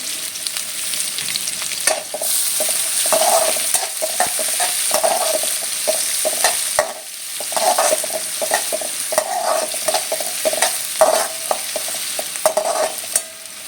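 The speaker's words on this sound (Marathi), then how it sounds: "त्यानंतर आपण त्याच्यामध्ये कांदा टाकणार आहोत कांदा पण चांगलं परतून घ्यायचा आहे" Onion sautéing in a pan for a dry cabbage and capsicum dish, a steady close sizzle broken by repeated scraping stirs, with no voices over it.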